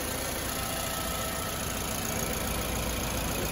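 A 2007 X-Over car engine idles at a workshop with a rough, diesel-like vibration, a steady, close, unbroken drone that holds level throughout.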